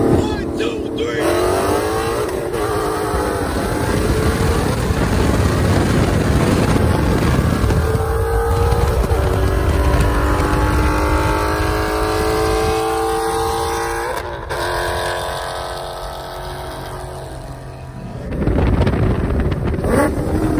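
Ford Mustang GT in a street race, engine roaring hard and climbing in pitch through several gear changes, heard loud from inside the car with heavy wind noise and rumble throughout.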